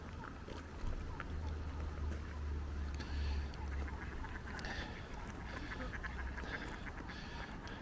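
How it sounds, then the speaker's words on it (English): Ducks squabble on water in a run of quacks and splashy flurries over a constant low rumble outdoors, moderately near. "The ducks are having a scrap."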